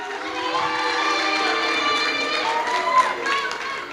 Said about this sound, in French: veuillez applaudir chaleureusement l'équipe qui défendra l'affirmative